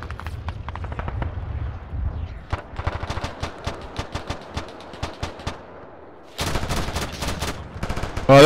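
Rapid bursts of automatic gunfire, sharp and close, firing at a target in steady rattling volleys, then a denser, louder barrage near the end.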